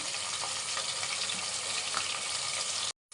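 Ginger garlic paste sizzles in a hot pan, giving a steady, loud, close frying hiss that continues unbroken before cutting off abruptly at the end.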